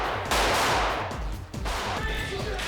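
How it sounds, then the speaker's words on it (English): Dense bullet and gunfire effects from the film Matrix Revolutions, a loud continuous barrage of overlapping shots and crackling impacts with a brief dip midway before the firing surges again. "There's a lot of bullet effects"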